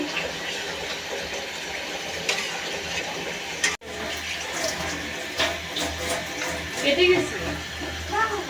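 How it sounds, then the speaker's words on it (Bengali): Water goes into a cooking pan for a koi fish curry with bean seeds, a steady splashing pour with a short cut midway, then bubbling and clinks follow. "জল দিয়ে দিলাম"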